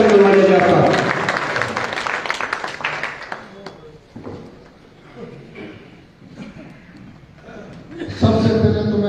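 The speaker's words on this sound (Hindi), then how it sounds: "जोरदार तालियां खड़े होकर स्वागत करो भाइयों का" Loud applause from a standing crowd welcoming a guest at a meeting of the International Jat Parliament in Uchana, dense clapping that fades into scattered claps and crowd noise, then surges again at the end, with a voice speaking over it.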